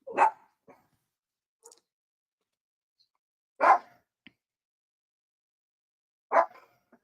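Dogs barking in three separate loud bursts a few seconds apart, fairly close, with a couple of faint yips between them and silence otherwise.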